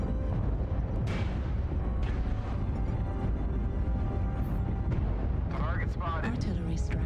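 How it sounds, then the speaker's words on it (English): Artillery strikes in MechWarrior Online land as a dense run of deep, rumbling explosions and booms, loud and continuous, with a voice talking over the barrage. "Artillery strike."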